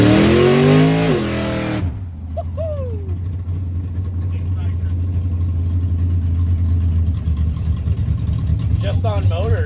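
A loud race car engine on a dyno roars and idles with a rough, rumbling tone, steady and close, after a brief burst of loud high revving at the start.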